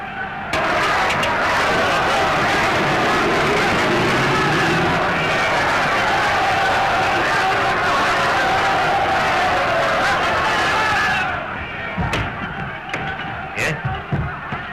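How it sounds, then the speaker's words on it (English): An agitated crowd gathers outside after a shot grazes a general's cheek, a dense continuous roar of many voices and shouting that holds steady, then breaks off abruptly into a few scattered sharp knocks and thumps. "The crowd outside are in a terrible state of excitement."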